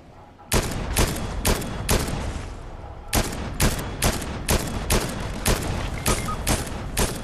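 Fortnite gunfire rings out as a rapid series of loud, sharp shots, roughly a dozen evenly spaced cracks over a dense bed of game noise, with no voices.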